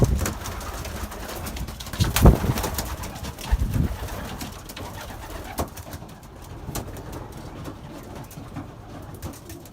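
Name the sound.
young pigeons cooing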